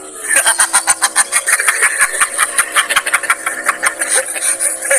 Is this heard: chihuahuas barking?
no